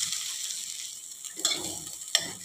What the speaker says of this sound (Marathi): हा चव आपल्याला 1 मिनिटभर छान असा परतून घ्यायचा आहे